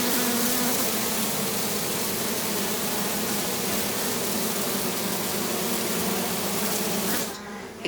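Honeybees from a package being installed into a hive, a dense, steady buzzing swarm heard close and loud throughout, cutting off sharply near the end.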